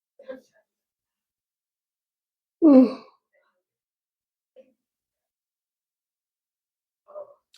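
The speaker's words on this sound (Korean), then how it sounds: "나도 모르게 하품을 해버렸네" A teacher lets out a single brief yawn during a high school class lecture, a breathy vocal exhale heard up close in an otherwise quiet room with only faint small sounds around it.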